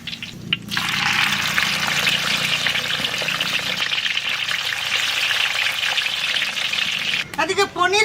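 Cubes of paneer fry in hot oil in a pan, giving a loud, steady, hissing sizzle that runs nearly unbroken before cutting off, with a few clatters at the end.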